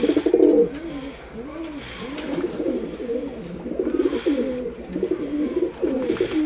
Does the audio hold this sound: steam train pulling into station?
no